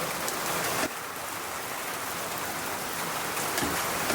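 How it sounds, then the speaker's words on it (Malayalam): Heavy rain pouring down steadily at a home in Kerala, a dense continuous hiss of drops on surfaces, loud and unbroken with a brief dip near the start. "മഴ നോക്കണ്ട, ഭയങ്കര മഴ. സൗണ്ട് കണ്ട, ഭയങ്കര മഴ."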